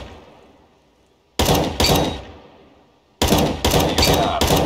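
Gunfire in Counter-Strike: Global Offensive comes in two clusters of short bursts: a pair of quick loud volleys, a pause as the echo fades, then four rapid bursts close together, all near and without talk.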